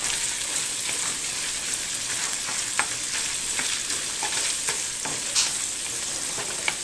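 Fish and olives fry in a pan with a steady, close hiss of sizzling, broken by occasional scraping stirs and small pops, with no one talking.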